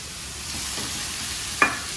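Masala frying in a pan on a gas stove, with a steady close sizzle and one sharp scrape of a spatula turning the spices over near the end; no voices.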